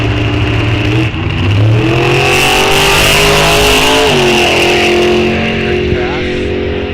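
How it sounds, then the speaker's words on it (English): A drag racing dragster makes a pass at Rock Falls Raceway during a test-and-tune session, its engine roaring loud and close the whole time, with the pitch rising and sweeping as it accelerates. "Gonna make another pass on that dragster."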